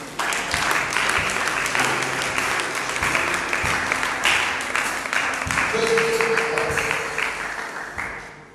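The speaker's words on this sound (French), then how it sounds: "Est-ce qu'on peut acclamer le Seigneur?" A church congregation at a worship service breaks into loud, dense applause, with many hands clapping in a sustained, slightly uneven roar that tapers near the end.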